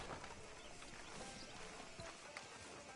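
Horse hooves clip-clop steadily along a town street in the video game Red Dead Redemption 2, a continuous rhythmic trot under dense ambient noise with no talk.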